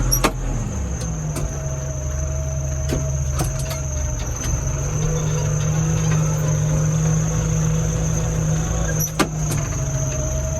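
A new tractor's engine drones steadily while driving, heard from the cab as a constant low hum with a few sharp clicks and knocks, with no talk.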